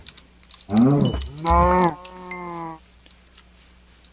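Cows moo in the video game Minecraft in a loud, close, drawn-out lowing of three segments, accompanied by light keyboard tapping in the background.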